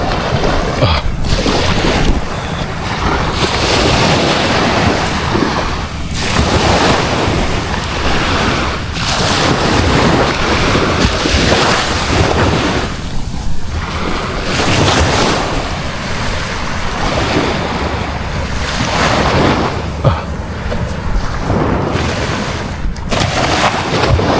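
Continuous roaring surf with waves crashing in repeated surges, loud and close, mixed with heavy wind buffeting the microphone.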